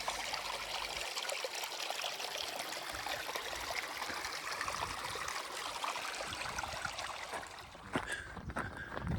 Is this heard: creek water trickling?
yes